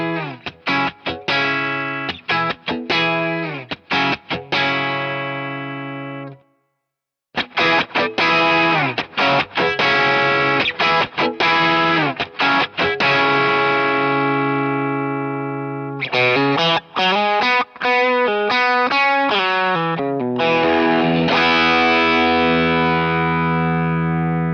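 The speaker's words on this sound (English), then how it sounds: "First up is the Lucid Overdrive." Electric guitar through an LSL Instruments Lucid Overdrive pedal, playing solo in bursts of driven chords and riffs with a short pause near the start, saturated and sustained, with no talking.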